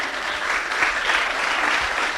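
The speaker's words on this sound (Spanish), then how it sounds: "después les agradecemos a ellos, un aplauso" Brief, full round of audience applause at a youth politics and technology forum, many hands clapping at once in a dense, even wash of sound that stays steady for about two seconds, with no talk.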